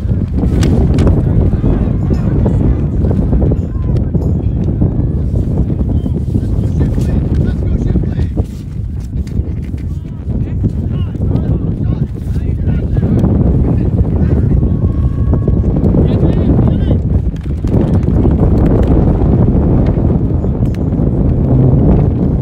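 Strong gusts of wind buffeting the microphone at an outdoor ultimate frisbee game, a loud continuous roar that dips briefly and surges again, with a commentator's voice partly buried underneath.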